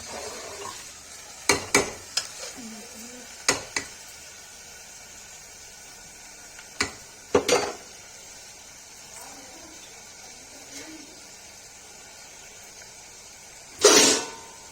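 Matar paneer frying in a pan with a faint sizzle underneath, broken by scattered sharp scrapes and clinks of a spoon stirring, and one louder scrape near the end.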